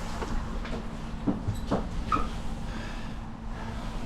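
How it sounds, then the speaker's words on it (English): A Blackpool tram rolls along its rails with a steady low rumble and a few faint clicks and squeaks, moderately close and even in level throughout. "Oh, it's the train."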